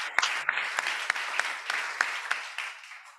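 Congregation in a church service at a Jakarta narcotics prison clapping together, a dense, steady wash of applause with sharper hand claps punctuating it at roughly regular intervals, fairly close and sustained throughout.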